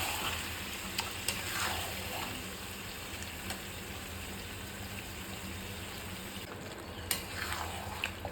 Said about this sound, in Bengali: খুব ভালো করে কষিয়ে নিতে হবে লো ফ্লেমে রেখে।